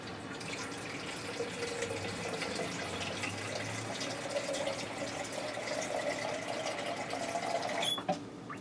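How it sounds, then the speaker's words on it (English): Water pours steadily into a soup pot on a home stove for unstuffed cabbage soup, a continuous close splashing and trickling that runs for several seconds with no talk. "And I'm going to add in some water."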